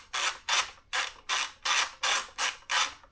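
A ratchet tool loosens fasteners on the seat cowl of a Ducati Panigale V2 motorcycle, clicking in eight even bursts close up, with no talk over it.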